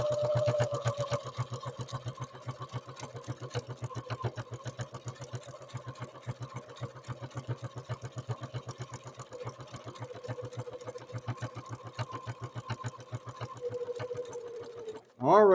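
A contemporary Necchi NE30 sewing machine stitches steadily for about fifteen seconds, its rapid, even needle rhythm close and loud, ending with a short clunk as it stops.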